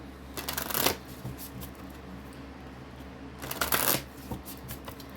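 Oracle cards being shuffled up close, two distinct riffling bursts about three seconds apart over a quiet room hum, with no talk.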